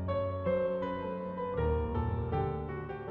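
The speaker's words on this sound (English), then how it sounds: "And then you can generate the accompaniment, in this case, some film music." Film-music accompaniment generated by Adobe Project Music GenAI Control: a full, sustained orchestral-style texture with layered harmonic tones and shifting chords, playing steadily and alone for several seconds, with no talk.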